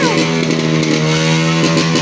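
A motorcycle engine runs at a steady loud idle, close by and buzzing without pause throughout, during New Year's celebrations.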